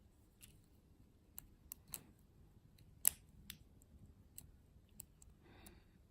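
A lock pick works the pins of an American Lock 1100 padlock, giving a quiet series of sharp, separate clicks at an uneven pace over a faint background.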